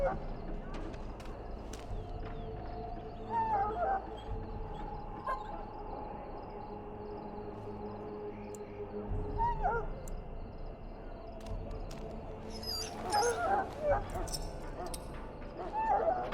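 A dog whimpers and yips in a pen in the video game Dragon Age Origins, with soft, intermittent whines over a steady, busy game ambience.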